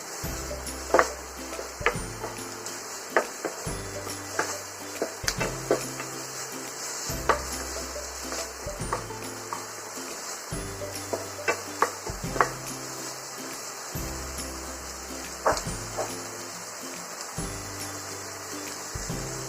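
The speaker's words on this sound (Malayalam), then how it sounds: "അതിലേക്ക് ഇഞ്ചി മുറിച്ച് വെച്ചത്, പച്ചമുളക് മുറിച്ച് വെച്ചത്, കറിവേപ്പില ഇതൊക്കെ ഒന്ന് ഇളക്കുക." A spoon stirs sliced ginger, green chilies and curry leaves in a pan for a peas varuval with egg, with soft sizzling and a steady series of scraping strokes and light taps, repeating every second or two, close and alone.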